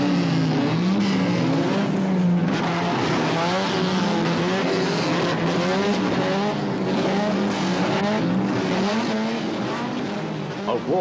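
A grid of 1980 British Saloon Car Championship race cars at Brands Hatch holds its engines at high, steady revs before the start, a loud, continuous roar with wavering pitch and no break.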